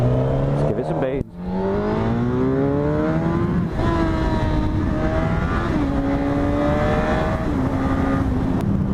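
A Suzuki GSX-R1000 L2 sport bike accelerates hard into a power wheelie, its engine note climbing steeply through the high revs in repeated rising sweeps between gear changes, loud and close with a rushing wind roar underneath.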